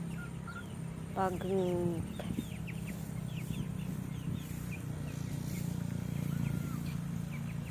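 Chickens cluck and call in a rural village yard, a louder burst of clucking early on followed by scattered softer calls over a steady low background hum, with a brief voice.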